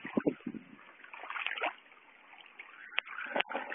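Water splashes and sloshes outdoors on a farm in a series of uneven, moderately faint bursts and trickles, with a few sharper slaps standing out along the way.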